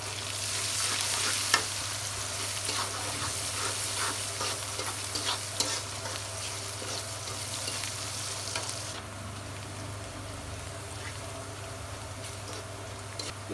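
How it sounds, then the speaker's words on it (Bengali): Onion and crushed garlic frying in a pan, a steady crackling sizzle with scraping stir strokes throughout, fairly close and alone, easing slightly softer toward the end. "পেঁয়াজ রসুন ভাজা হয়ে গেছে"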